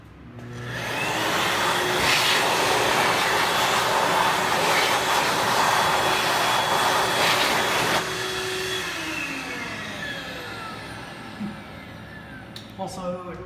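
A HEPA-filtered hand dryer blasts loud and close, a steady roaring airflow that runs for several seconds, then drops off to a lower whirr and winds down, with faint clicks near the end.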